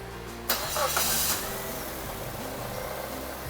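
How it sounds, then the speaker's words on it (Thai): A 2010 Mazda 2 engine cranks and catches with a sharp burst, revs briefly, then settles into a steady low idle, close by, after a fresh oil change. "เดี๋ยวสตาร์ทเครื่อง เพื่อเดินน้ำมันเครื่องในระบบ"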